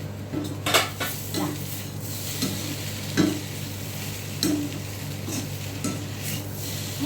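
A spoon scrapes and clinks against a pan as a potato roast is stirred on a gas stove. Intermittent metallic taps sit over a steady low sizzle and hum, with no talking.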